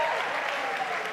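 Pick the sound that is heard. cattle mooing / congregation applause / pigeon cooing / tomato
congregation applause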